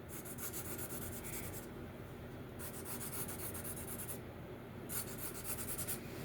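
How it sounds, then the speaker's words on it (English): A Walmart number 2 pencil drawing on paper, giving a steady close scratchy rubbing in bursts separated by two brief pauses, faint and with no talking. "I'm just using a regular number 2 pencil, I think."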